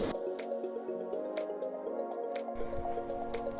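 Empty water bottles being filled from a tap: a steady, close trickle of pouring water with a hollow ringing tone and small drips, and a brief bump partway through.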